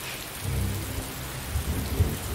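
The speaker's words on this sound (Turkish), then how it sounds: "İşte Yağmur yangınları söndürecek yavrum." A rainstorm with thunder: a steady hiss of rain under deep, rolling rumbles that swell twice, with no voices.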